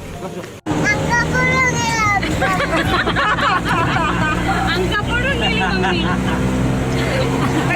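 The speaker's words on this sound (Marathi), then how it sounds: "फायनली आम्हाला रिक्षा भेटली आणि आता आम्ही जातो रिक्षा" Auto rickshaw ride in the rain, its engine a steady drone under constant hiss and patter, with people chatting throughout over the vehicle noise after a brief dropout at the start.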